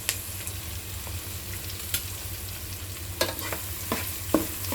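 Something sautés in a pan with a continuous soft sizzle, a low steady hum beneath, and a few scattered scrapes and clinks of stirring toward the end, close by and without speech.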